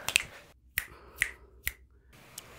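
Fingers snapping during a children's follow-the-leader game, about five crisp snaps spaced unevenly, close and distinct against near silence.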